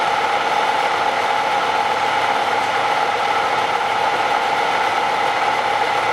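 An A-type overdrive spins on a test rig at roughly 1077 RPM, giving a steady, close whir of meshing gears with a fine ratcheting texture and a constant mid-pitched hum throughout.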